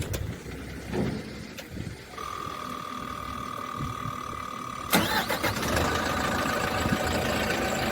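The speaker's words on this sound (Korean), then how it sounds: "네, 한번 시동 바로 걸어볼게요." A 2008 dump truck is started close by: a steady starter whine cranks for a few seconds before the engine catches with a sudden roar and settles into a loud, rough idle.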